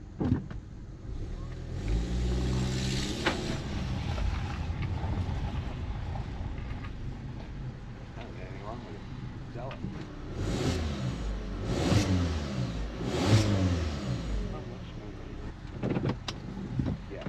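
A VW with a 2.0 TSI engine in sport mode revs and accelerates in several rising pulls, heard from inside the car. Engine pitch climbs and drops between shifts, fairly quiet overall, with road noise underneath.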